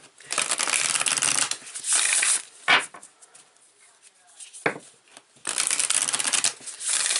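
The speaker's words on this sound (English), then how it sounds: "I'm going to pull some more cards here." Tarot cards are shuffled and pulled by hand in a riffling, papery rustle that comes in several bursts, with quieter gaps where someone speaks softly.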